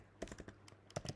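Quick bursts of computer keyboard typing while code is written for a data structures class, soft close key clicks in two short clusters with a brief pause between, no speech.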